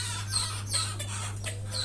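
Caged hens cluck softly in a few short, repeated bursts over a steady low hum, with no one speaking.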